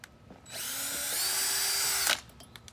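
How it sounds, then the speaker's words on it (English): A power drill bores a small hole in a soda bottle cap, giving a steady, close whine that runs for about a second and a half before stopping abruptly. "I'm going to drill a small hole over here."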